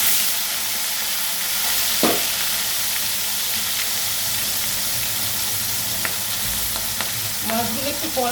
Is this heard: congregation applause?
no